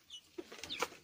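Young roosters and mostly red hens in a coop give a few faint, close clucks and short squawks, with no talk.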